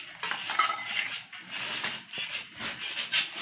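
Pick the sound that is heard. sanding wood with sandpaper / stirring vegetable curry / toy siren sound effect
stirring vegetable curry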